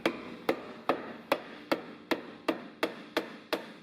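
Hammer tapping a Camaro rear track bar into its snug mount, ten sharp evenly spaced knocks about every half second, each a crisp close strike with a short decay.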